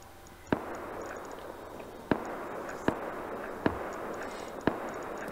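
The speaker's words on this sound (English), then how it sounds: "A lot of gunshots going on out there." Distant gunshots ring out in the survival video game Rust, five sharp isolated reports spaced a second or so apart over a steady ambient hiss.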